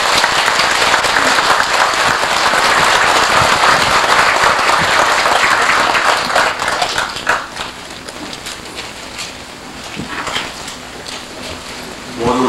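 Dense applause from a large audience honoring a senior monk at a 1992 Buddhist dharma service held at an air force base in Daegu, Korea. Loud and sustained at first, then thinning and fading to scattered claps.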